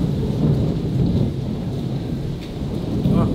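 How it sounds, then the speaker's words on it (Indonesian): Heavy rain pours steadily with rolling, rumbling thunder throughout, loud and close, with no talk. "Wah, hujan guys."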